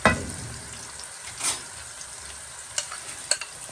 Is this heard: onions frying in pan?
yes